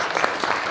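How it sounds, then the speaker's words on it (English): Brief, dense applause from an audience at the Annual Women in Finance & Investment Summit 2022 in Mauritius, an even patter of many hands at moderate loudness. "Please give her a big round of applause"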